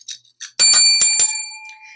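A small hand bell rings close and bright, a few quick separate dings followed by a cluster of sharp strikes whose clear metallic tone hangs and fades.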